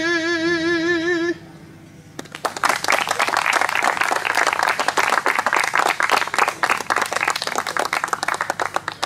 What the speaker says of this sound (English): Another round of applause for the wonderful accompanist.